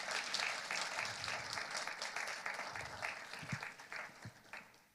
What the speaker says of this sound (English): How about another round of applause for all of them this evening